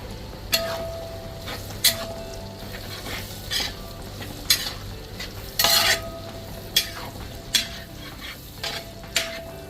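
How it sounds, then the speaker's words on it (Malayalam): Garlic sautéing in a pan for venison pickle, a continuous close sizzle punctuated by a dozen sharp clanks and scrapes of a spoon stirring against the pan, with no talk. "ഇനി നമുക്ക് വെളുത്തുള്ളിയും കൂടെ ഇട്ട് കൊടുക്കാം അതിലോട്ടെ ഇനി ഇതെല്ലാം കൂടെ നന്നായിട്ട് അങ്ങോട്ട് വാട്ടിയെടുക്കാം"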